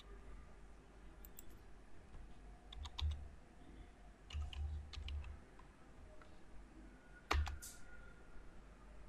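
A computer keyboard clicks in short, faint bursts of typing with pauses between them, recorded close in a quiet room with no talking.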